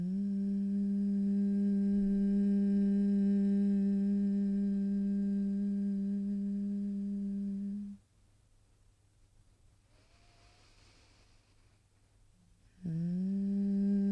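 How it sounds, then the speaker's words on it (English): A steady, gentle hum on the exhale during Brahmari breathing in a mother and baby yoga session holds one low pitch for several seconds, stops during a quiet pause, then resumes alone. "on your exhale, you'll just make a gentle humming sound like this"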